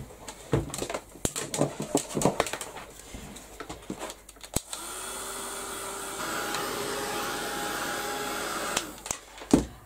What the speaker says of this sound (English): I'm going to give this a quick blast with the heat gun, let it dry